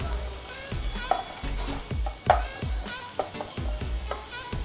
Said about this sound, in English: So let's give this a stir.